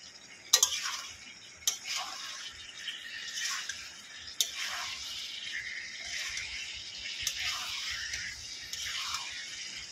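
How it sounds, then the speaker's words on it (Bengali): Cauliflower and potato pieces being stirred and sautéed with spices in oil, with a light sizzle under irregular scrapes and clinks of a spatula against the pan, close and fairly quiet, with no talking. "আবারও ভালো করে কষিয়ে নেব।"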